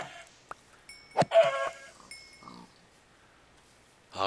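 Pigs in the video game Minecraft give a few scattered short grunts and snorts. The sounds are close and fairly clear, with quiet gaps between them.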